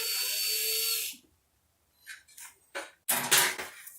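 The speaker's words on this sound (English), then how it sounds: "So we're going to drill a hole for the bolt." A power drill with a 3/16 bit whirs for about a second drilling a bolt hole for garage ceiling storage, then stops; after a pause come a few short clattering handling noises and a louder scraping burst.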